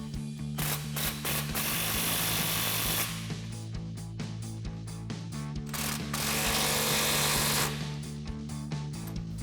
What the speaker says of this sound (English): Now we can go ahead and tighten them down with our 21 millimeter socket and our 21 millimeter wrench.